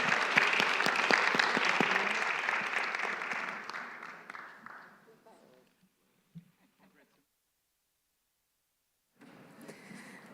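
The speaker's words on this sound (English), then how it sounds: "let's give a round of applause to this exceptional panel" Audience at the Aspen-GMF Bucharest Forum applauds a panel, a loud dense round of clapping that fades over about five seconds into near silence, with a single faint knock, before the room hum returns.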